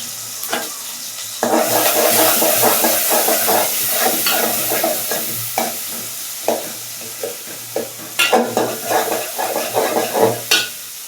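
Onions and dried chilies fry in a pan, giving a steady close sizzle broken by repeated scraping, clattering stirs that come in bursts, heavier near the start and again toward the end.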